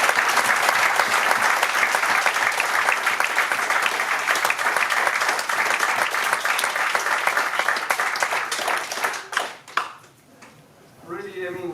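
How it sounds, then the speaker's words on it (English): An audience at a Model EU closing ceremony in Brussels breaks into loud, sustained applause that fades after about nine seconds, with scattered claps and voices trailing off near the end. "huge applause for yourselves"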